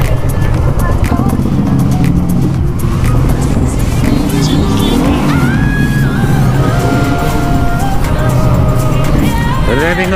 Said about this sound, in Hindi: raving up of bikes